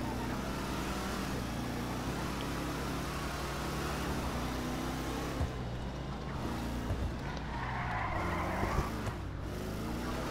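Car engine roar with occasional tire skids in the driving game GTA V, a steady loud drone running throughout with brief sharper bursts, while a voice talks over it.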